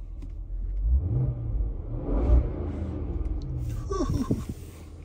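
A car engine with its exhaust valve opened rumbles deep and loud nearby, with a brief rise in revs and a low, throaty exhaust drone.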